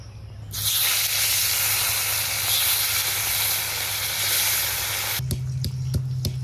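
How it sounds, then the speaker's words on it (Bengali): Pieces of rui fish frying in hot oil, a loud, dense sizzling hiss that starts abruptly and holds steady for about five seconds before cutting off to a few soft clicks and knocks. "এখন বাকি পিসগুলো ভাজবো"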